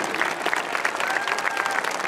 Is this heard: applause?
yes